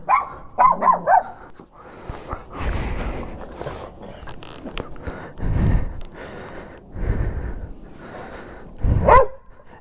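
Several dogs bark and yelp in short bursts at moderate distance, with scuffling and breathy noises between the barks.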